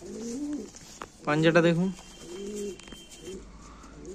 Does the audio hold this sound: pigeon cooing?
yes